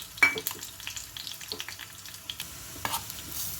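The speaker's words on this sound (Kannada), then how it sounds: "ತುಪ್ಪ ಬಿಸಿ ಆಯಿತು ಹಿಂಗೂ ಸಾಸಿವೆ ಹಾಕ್ತಾಯಿದ್ದೀನಿ" Mustard seeds and asafoetida hit hot ghee, producing scattered sharp pops and spits over a quiet background, irregular and close, with a faint hiss building toward the end.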